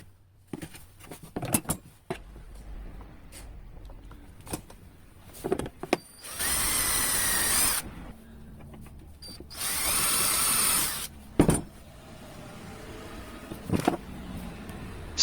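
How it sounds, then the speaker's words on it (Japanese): A power drill bores pilot holes and drives screws into wood while a drawer-fitted table is built, with two long, loud sustained whirring runs between scattered knocks, clicks and handling noises from the wood and jig. "下穴を開けてネジ止めします。"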